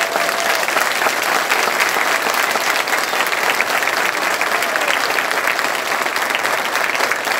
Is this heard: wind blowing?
no